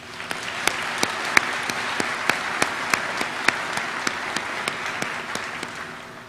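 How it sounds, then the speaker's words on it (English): Audience applause at a university spring commencement ceremony, steady clapping from a large crowd with sharp individual claps standing out, filling the whole stretch at an even, fairly loud level. "please join me in giving them a warm round of applause"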